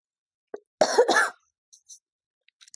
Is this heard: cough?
yes